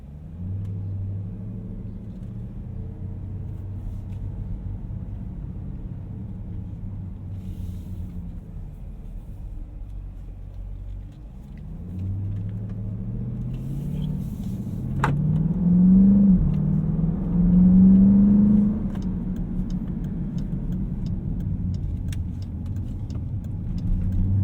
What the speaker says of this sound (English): This transmission sounds fantastic, 8-speed automatic.